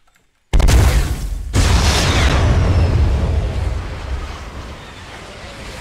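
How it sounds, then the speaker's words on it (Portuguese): A bomb explosion in the video game Fortnite Battle Royale: a sudden loud booming blast after brief silence, a second heavy burst a second later, then a long rumbling decay that slowly fades. "Bomba iminente, explosão iminente."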